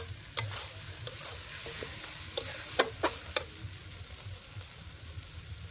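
Meat stir-fries in a pan outdoors in a garden, a quiet, steady sizzle under a few sharp clicks and scrapes of stirring clustered in the middle, close by with no talking.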